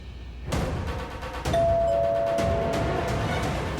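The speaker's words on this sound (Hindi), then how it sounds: "डैड, डोरबेल तो बज रही है" A doorbell chimes with a clear, sustained electronic tone over a steady background rumble, with a couple of knocks or thumps before it.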